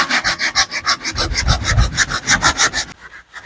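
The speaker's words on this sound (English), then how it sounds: "you want to do all your heavy sanding with that 80 grit" Hand sanding of a damaged plastic car bumper with 80 grit sandpaper, a close, loud rhythmic rasp of quick back-and-forth strokes, about six per second, stopping abruptly near the end.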